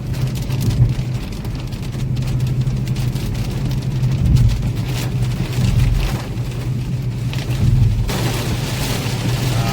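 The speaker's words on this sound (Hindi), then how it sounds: "तो बारिश शुरू हो गई" Heavy rain begins pounding a car on a highway drive between Solapur and Hyderabad, a loud steady roar of rain and road rumble with low booming surges inside the cabin.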